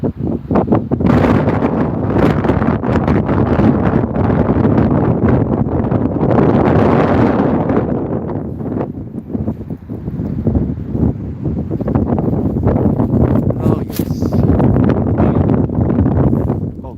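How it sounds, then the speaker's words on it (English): Strong wind blowing snow around outside a hotel near its barbecue area, a loud, continuous roar and buffeting against the microphone that eases briefly in the middle before surging again. "It's creating a dam of wind and it's blowing up snow."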